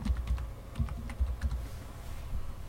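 Someone types a search on a computer keyboard, a short burst of quick, close key clicks in an uneven rhythm before the tapping trails off.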